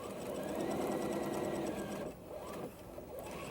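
A sewing machine stitching a seam on a girls' jumper, a fast steady close whirring hum of needle strokes, easing briefly before running again.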